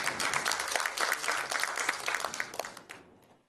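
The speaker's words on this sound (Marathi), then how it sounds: "जोरदार टाळ्या." An audience at a Marathi folk performance gives steady, dense applause, loud and sustained for about three seconds before fading out.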